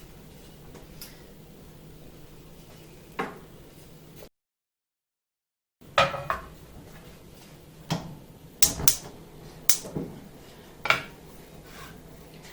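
Ground beef browns in a pan while a utensil stirs it, producing scattered sharp clinks and scrapes against the metal over a low background hiss, with a brief gap of silence partway through.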